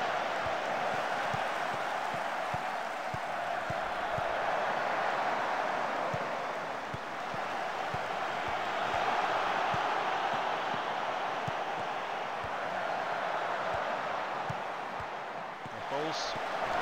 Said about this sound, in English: you might not hear me, you just hear the crowd noise